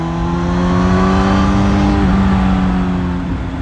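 Suzuki GSX-S1000 motorcycle with the K5 inline-four engine revving loudly and steadily up close, a sustained engine drone with a slight pitch shift partway through.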